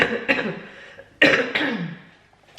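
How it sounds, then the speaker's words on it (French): Several harsh, close coughs in two clusters, a couple of quick hacks early, then a louder double cough with a rough throaty tail. "j'ai encore ma toux, j'ai du mal à m'en débarrasser"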